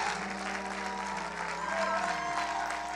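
A congregation applauds at a church prayer service, a steady wash of clapping under sustained organ or keyboard chords and faint talk.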